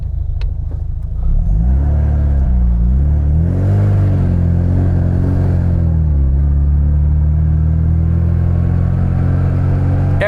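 A supercharged Mini Cooper engine revs up after a brief idle, its deep rumble swelling and wavering through a few throttle blips before settling into a loud, steady drone with a faint high whistle on top.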